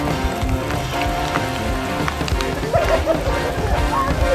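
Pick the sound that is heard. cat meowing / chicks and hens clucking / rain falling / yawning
rain falling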